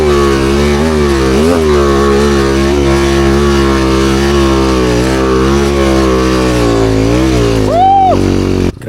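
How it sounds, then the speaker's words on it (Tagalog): Trail motorcycle fitted with a BRT 68 engine being test ridden, a loud close buzzing engine note rising and falling through repeated revs, ending with a sharp high rev and a cutoff. "Listingan taning motor ni Yoyo naka BRT 68"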